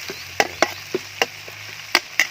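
Garlic stir-fried in a pan over a charcoal stove gives a quiet sizzle, broken by about eight sharp scrapes and clacks of the spatula at uneven intervals, with no talking.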